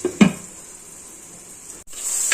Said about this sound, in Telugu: ఆ మసాలా వేసి కొద్దిసేపు ఫ్రై చేయాలి.